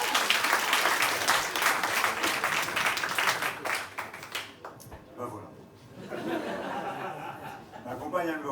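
A magic show audience at an open-stage evening claps loudly for a volunteer, with laughter mixed in; the clapping fades midway as someone speaks briefly, then chuckles and murmurs follow.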